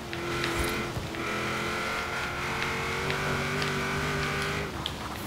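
A '99 Lancer engine drones steadily through a lap of the Ashbrook Loop in a racing video game, its pitch shifting slightly with a brief rev change near the start and a drop just before the end.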